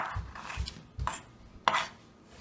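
A big knife cuts through a pineapple on a board, giving a handful of soft, close thuds and scraping cuts with a sharper knock near the end.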